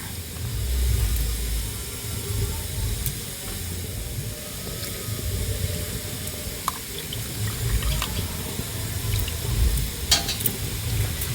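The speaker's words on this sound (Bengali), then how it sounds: "এবার খুব ভালোভাবে ব্যাটারটা ফেটিয়ে নেব।" Ladle beating sweet jaggery pitha batter in a bowl, a soft wet swishing and stirring with occasional clinks against the bowl, steady and close, with no speech.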